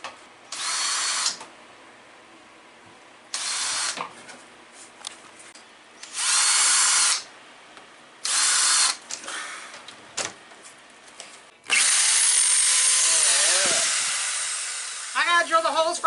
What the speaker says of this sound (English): I gotta drill the holes for all the handles.